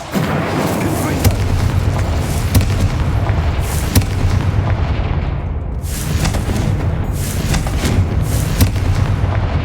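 Confringo blasting spell in Hogwarts Legacy, a run of booming explosive blasts and crackling impacts in a loud, dense battle mix with fireworks-like bursts repeating through the stretch.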